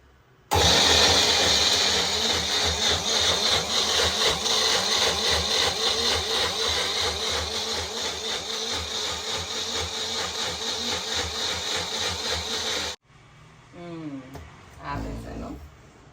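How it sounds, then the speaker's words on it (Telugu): A mixer grinder whirs loudly and continuously for about twelve seconds as it blends coconut into a paste, then cuts off abruptly, leaving a brief stretch of talk. "సో దీన్ని మిక్సీలో వేసి పేస్ట్ చేద్దాం"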